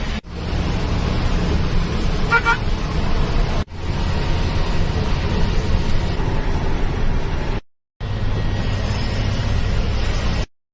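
A new GunGun Super Bus on the Guwahati to Kokrajhar route rumbles along as a steady, loud broadband drone, with no clear horn heard and brief dropouts breaking the noise.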